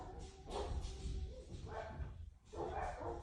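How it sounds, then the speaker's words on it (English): Several dogs bark and whine indoors, yelping and whimpering cries rising in a few bursts over a steady low background, moderately close. "oh, my dogs are crying."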